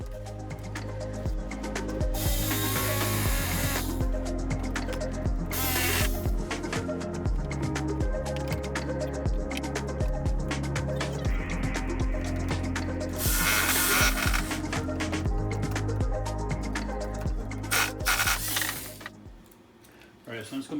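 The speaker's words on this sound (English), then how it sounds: "So the best way to cut this is with a Sawzall," A Sawzall reciprocating saw fitted with a metal cutting blade saws through plumbing pipe during bathroom demolition, a loud, continuous buzzing rasp that runs nearly twenty seconds, pauses briefly, then trails off into quiet.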